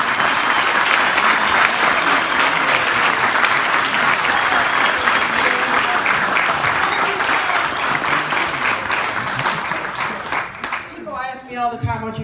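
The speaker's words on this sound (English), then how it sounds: "I think we should give her a big round of applause" A large audience applauds at a retirement celebration for a doctor, with steady, dense clapping that fills the room for most of the stretch, then thins near the end as a voice begins speaking.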